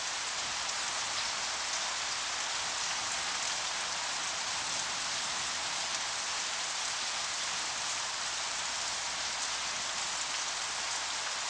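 Heavy rain pours down in Kenya after months of drought, a constant, dense hiss drumming steadily on the ground throughout with no pauses.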